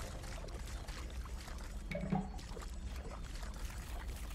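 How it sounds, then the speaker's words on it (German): In the survival video game Grounded, water being drunk gives a soft, continuous pouring and trickling liquid sound, fairly faint and steady throughout. "wir können ja hier auch das Wasser trinken"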